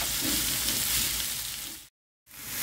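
Garlic, black pepper, onion and chard frying in a pan, a steady close sizzle that fades before a brief silence and then resumes.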